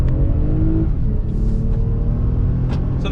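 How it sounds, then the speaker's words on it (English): A 2020 Toyota Sienna minivan accelerating on throttle through a U-turn, a loud steady engine rumble and whir from inside the cabin, continuous for a few seconds with no talking. "making a U-turn in the Sienna on throttle"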